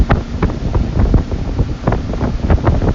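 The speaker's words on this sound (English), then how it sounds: "Plenty of power from our Volvo engine." A Regal LS6 surf boat with a Volvo engine, 350 or 380, runs on plane over saltwater waves, giving a loud, steady engine and hull rush thick with wind buffeting and choppy water slaps throughout.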